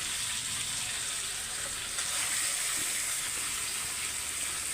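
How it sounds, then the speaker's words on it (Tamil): Chicken frying in oil with curry leaves while being mixed, a steady, close hissing sizzle that continues without a break, with a faint scrape of stirring. "இப்போ நம்ம பரட்டி வச்சுருக்கோம்ல சிக்கன் அதை மட்டும் சேர்த்து"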